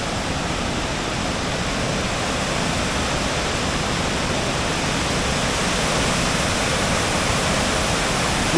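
A powerful Norwegian waterfall, one left unharnessed for hydropower, roars as a steady, dense rush of falling water, loud and unbroken throughout.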